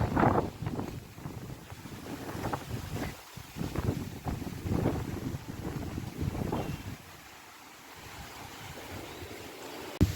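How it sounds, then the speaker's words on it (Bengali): Gusty pre-storm wind sweeps across a train station, pounding the microphone in uneven surges for several seconds before easing into a quieter, lighter rush near the end. "পুরা পরিমাণে হাওয়া উঠে গেছে"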